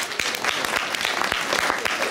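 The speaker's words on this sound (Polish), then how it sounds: "Gorące brawa." An audience at a patriotic song festival claps steadily, a dense wash of applause filling the room.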